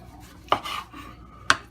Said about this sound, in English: I'm going to take this tomato here and I'm going to cut up a tomato